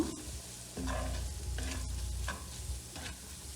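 Salt, black pepper and chili flakes get stirred into tomato paste in a hot pan for a spinach dish, giving a quiet sizzle with a few scraping strokes, close and alone.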